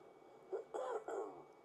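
Two or three short, muffled coughs or throat-clearing sounds, quiet and close, with no talking.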